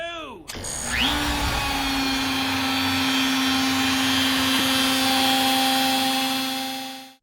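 A Lowrider V4 CNC router starts up and runs a cutting job, a loud steady motorized whine with a sustained tonal hum that holds for several seconds before fading at the end.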